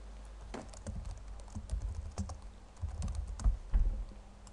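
Keys on a computer keyboard click in soft, irregular bursts of typing, close and fairly quiet, with no voice.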